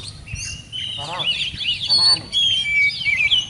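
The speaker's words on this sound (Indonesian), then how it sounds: "Ini satu lagi kacer digantangkan dominan birahi." An oriental magpie-robin (kacer) in breeding condition sings from a hanging cage in bright, varied whistled phrases and rapid trilled chirps, loud and close, with faint background noise.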